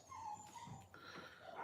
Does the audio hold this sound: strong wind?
no